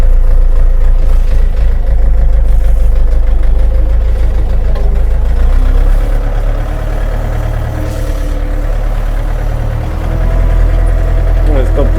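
A Kentavr 504 FC mini tractor engine runs loud and close in first gear with the reverser set forward, a steady low diesel drone that eases slightly midway, while someone talks over it.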